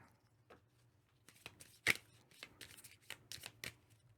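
Cards shuffled by hand during a solo playthrough of the Sentinels of the Multiverse board game, a quick series of crisp riffling and flicking bursts, close and fairly quiet, with no talking.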